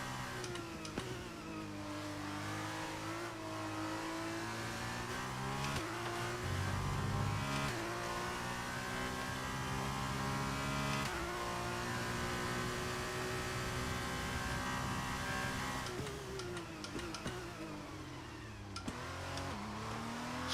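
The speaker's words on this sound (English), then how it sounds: "So there, I'm just dipping into second gear to kind of get the car drifted a bit." A Formula 2 race car in the F1 23 video game revs hard and loud in wet weather, its engine note climbing and dropping through repeated gear shifts as it drifts, with no talking.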